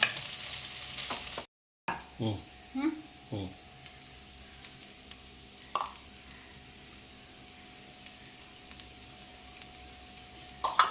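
Cooked rice being mixed into stir-fried vegetables in a pan brings a soft, constant sizzle with scattered scrapes and taps of a spoon, some with a slight squish, and occasional quiet voices in the background.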